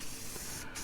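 Brilliant blue paint sprayed from an aerosol can on a boat project, one short steady hiss lasting under a second with a brief break near the end, close and fairly quiet, no voices.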